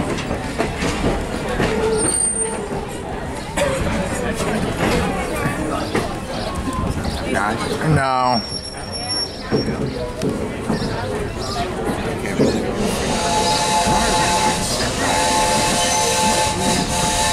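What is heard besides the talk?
train passing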